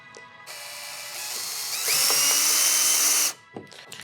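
Power drill driving a screw partway in while fitting the H-bar standing support on a Hobie Mirage Passport 12 kayak, one continuous close whine that rises in pitch partway through, then stops abruptly.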